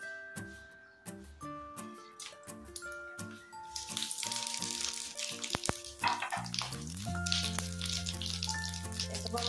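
Cumin seeds and chopped spices splutter and sizzle in hot oil for a prawn curry masala, a steady frying hiss that builds and stays loud under background music.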